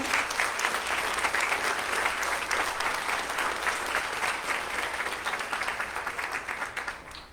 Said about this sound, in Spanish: Un aplauso a esta parejita